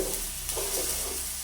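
A Jaffna-style squid curry masala is stirred in a pan, a brief close scrape and soft sizzle lasting about a second and a half, no talk.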